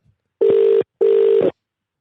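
A telephone rings on an outgoing call, two loud electronic ring bursts with a short pause between them, clear and close with no talking over them.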